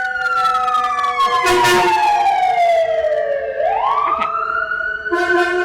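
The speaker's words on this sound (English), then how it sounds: "Okay, that was an ambulance. Okay, now fire department." Ambulance and fire engine sirens pass close outside, a loud wailing tone sliding steadily down and then sweeping back up, with a second siren's rapid pulsing call breaking in at the end.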